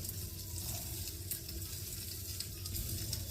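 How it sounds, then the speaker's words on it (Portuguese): Meat searing in a hot pan gives a steady, close sizzle that runs unbroken with no voices, while pupunha palm heart and banana cook alongside for a purée. "Aqui a carne já está terminando de selar"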